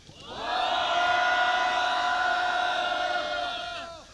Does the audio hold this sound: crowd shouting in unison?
yes